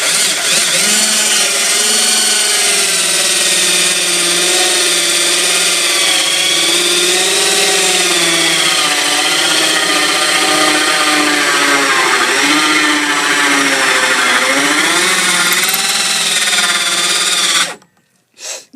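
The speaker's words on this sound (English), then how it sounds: "Once the drill bit goes in, then what you're going to do is take the drill bit and angle it" A loud, steady high-pitched power drill whine runs continuously, its pitch wavering slightly as it bites into a kayak hull to mount a rod holder, then cuts off abruptly near the end.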